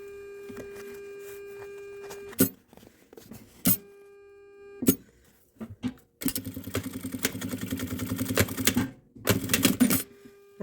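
Sewing machine stitching milk cartons together for a small quilted 13x18 case, short rapid mechanical bursts of stitching separated by pauses, a steady motor hum, and a longer run of stitching near the end.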